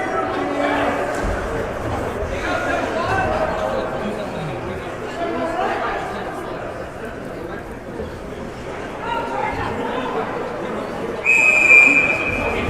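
A referee's whistle shrills sharply near the end of play at a college ice hockey game between New Haven and Hofstra, one short blast cutting over a sports commentator's talk and steady arena crowd chatter.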